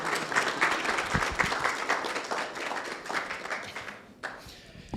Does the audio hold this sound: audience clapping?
yes